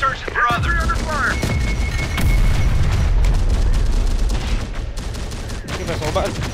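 Loud, dense gunfire with rapid bursts and heavy booming explosions rolls on almost without pause in the Terminator Dark Fate Defiance war game, while brief voices break through the battle.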